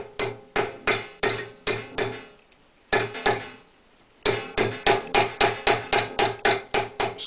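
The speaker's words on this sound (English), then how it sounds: "One to push the end round, and the cross peen hammer to form it into the groove." A cross peen hammer strikes metal, forming it into a groove. Sharp ringing blows land in quick, even runs, broken by two short pauses, and the final run is the fastest.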